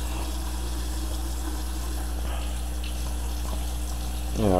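Water runs from a tap through a trumpet during cleaning, a steady close gushing stream with a low hum beneath it, swelling into a louder splash right at the end.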